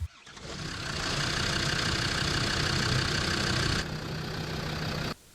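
A Land Rover Defender TD5 diesel engine cranks and catches, then runs at a steady, loud idle for several seconds before cutting off abruptly.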